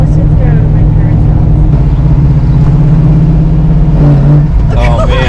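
A 1973 Camaro Z28 V8 drones loud and close from inside the car, a steady throaty roar that shifts pitch late as it pulls through the gears, with people talking over the engine.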